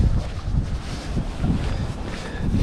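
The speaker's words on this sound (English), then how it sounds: "I know you guys can hear that wind." Strong wind buffets a fishing boat on open water during winter crappie fishing, blowing in loud, uneven gusts that rumble across the microphone.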